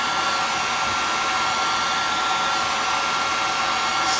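A heat gun blows hot air onto a polymer clay flower, a steady loud hairdryer-like roar close by, unbroken throughout.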